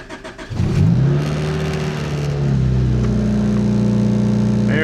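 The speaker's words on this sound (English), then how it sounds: "All right, let's fire this puppy up." A turbocharged Honda Civic engine cranks briefly, fires up with a rising rev, then settles into a steady, close, loud idle.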